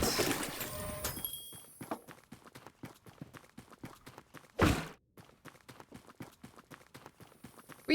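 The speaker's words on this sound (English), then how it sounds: "I hear a horse." Horse hooves clip-clopping at a steady walking rhythm, a long run of crisp, even hoof strikes on a hard surface, fairly close, with a brief burst of other noise midway and water rushing at the start.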